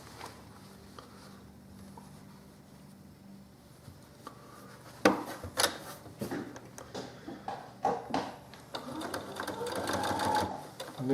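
A sewing machine hums steadily as it stitches along a collar, with louder clicks and handling knocks in the second half.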